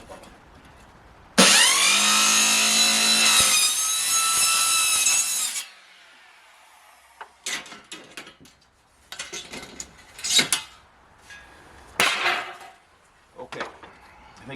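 A power saw whines loudly through a 6x6 timber for several seconds, then stops; a few shorter bursts of cutting and clattering follow with pauses between.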